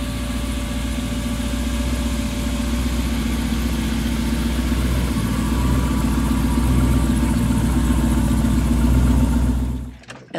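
A car engine idles and pulls steadily onto a 2021 Maxx-D A6X drop-deck trailer, a constant low hum that swells slightly before cutting off abruptly near the end.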